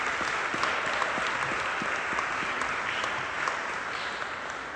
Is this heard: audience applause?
yes